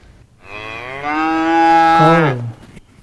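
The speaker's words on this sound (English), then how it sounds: "cow," A cow gives a single long, loud moo with a clear harmonic voice, rising then falling before ending abruptly, heard alone and close up.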